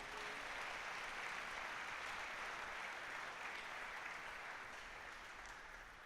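A congregation in a church applauds with sustained, dense clapping that holds steady and fades slightly toward the end, moderately distant, with no voices over it.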